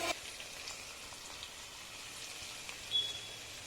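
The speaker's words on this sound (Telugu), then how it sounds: "చాలా చక్కగా ఫ్రై అయ్యింది ఉల్లిపాయలు" Onions fry in a pan for Hyderabadi mutton keema, giving a faint, even crackling sizzle like light rain with a small pop near the end, and no voices.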